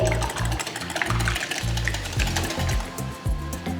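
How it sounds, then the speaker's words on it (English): Four large eggs seasoned with salt and pepper are whisked in a bowl for a Spanish omelette, making a fast, steady rhythmic beating and clatter that runs close and fairly loud throughout. "Just whisk it all nicely."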